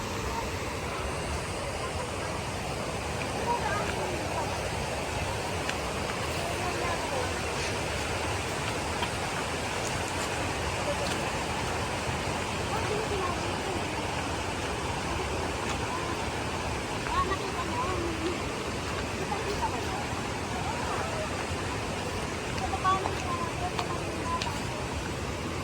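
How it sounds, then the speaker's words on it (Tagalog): Rushing water on the approach to a waterfall: a steady, broadband roar of flowing water, fairly loud and continuous throughout, with faint voices mixed in. "Naririnig nyo ba guys yung lagaslas ng tubig?"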